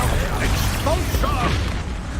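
In Hogwarts Legacy on hard mode, an Expulso spell explosion thumps with a heavy low rumble and crackling burst, layered with faint game effects and no clear speech.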